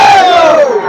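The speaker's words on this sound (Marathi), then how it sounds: "कार्यकर्त्यामध्ये असणारा जल्लोष" Political party workers at a campaign gathering let out a loud, brief crowd shout of cheering up close.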